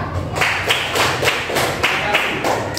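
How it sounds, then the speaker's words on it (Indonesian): A classroom of students claps their hands together in a quick, rhythmic unison pattern of sharp, close claps, repeated in short beats. "Tepuk tangan."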